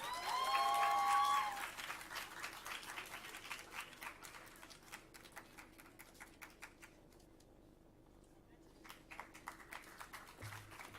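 An audience applauds quiz competition winners at a Constitution Day celebration, dense clapping that thins and fades toward the middle before picking up again near the end, with a brief tonal whistle or feedback at the start.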